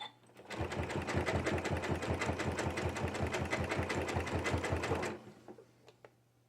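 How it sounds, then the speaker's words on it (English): Sewing machine stitching jelly roll fabric strips into tubes for a rug, a fast steady run of needle strokes for about five seconds before it stops, close and loud, followed by quiet handling. "I'm going to bring this one together and sew a little bit further."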